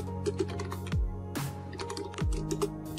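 Computer keyboard typing while entering code for an Android app, with quick irregular keystrokes in bursts, close and clear, broken by a couple of soft swooping tones.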